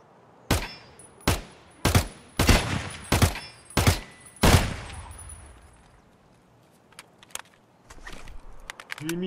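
Gunfire in the shooter game Escape From Tarkov, seven sharp, loud shots at roughly even intervals of under a second, each with a short ringing tail, followed by quieter shuffling and faint clicks.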